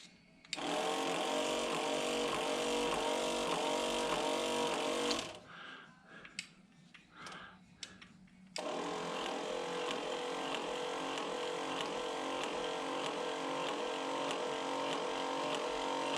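A small electric motor drives a greased mechanism with a steady, loud, buzzing whir. It cuts out for a few seconds of quieter clicks and handling, then starts up again and runs on evenly.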